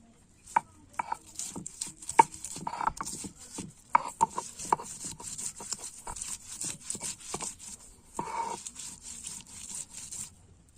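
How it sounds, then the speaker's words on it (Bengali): Garlic being ground by hand on a stone grinding slab: rhythmic, irregular knocks and scraping strokes of the stone, crisp and close, with no talking. "এবার রসুন বেটে নেব"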